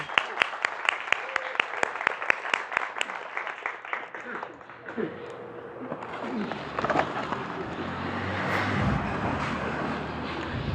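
An audience claps in welcome at an Ajijic Open Circle gathering, with sharp, evenly spaced claps at first that blur into a steady wash of applause, then fade into a low murmur of room noise.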